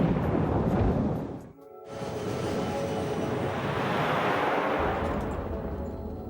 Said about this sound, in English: they are heading straight into the heart of the thunderstorm